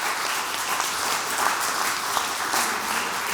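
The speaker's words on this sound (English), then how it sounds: "Let's give those folks one more round of applause" A crowd at a final pitch event applauds the presenting groups with continuous, even clapping, dense and moderately loud throughout.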